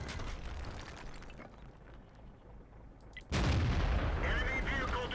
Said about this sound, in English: I don't want to get hit by this artillery